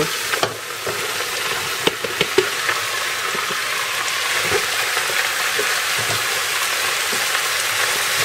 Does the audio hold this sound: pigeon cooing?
no